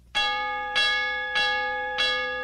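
A bell rings four times at an even, unhurried pace in a 1956 Schaefer beer television advertisement, each loud, clear strike ringing out and decaying before the next, with no voices over it.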